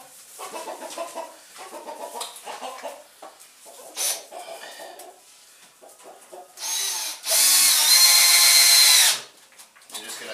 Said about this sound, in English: going to screw that right down to the table all the way around